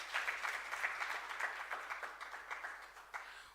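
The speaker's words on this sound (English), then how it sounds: "Another round of applause, please." Applause from an audience at a central bank annual report launch in Namibia, a steady crowd clapping at moderate volume that continues evenly throughout.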